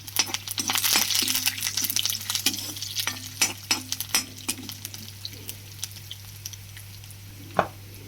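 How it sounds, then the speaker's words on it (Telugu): Tempering spices for a ridge gourd curry (garlic, dried red chillies, cumin and mustard seeds) sizzle in hot oil as a spoon scrapes and stirs the pan, with clicking taps and a fading fry over a steady low hum. "సో తాలింపు కొంచెం చూడండి, కొంచెం వేగాలి తాలింపు."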